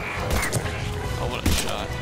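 Gunfire from a weapon in the sci-fi shooter Mass Effect 3, a dense burst of loud, close shots and mechanical clatter layered over game noise, with a player's voice talking over it.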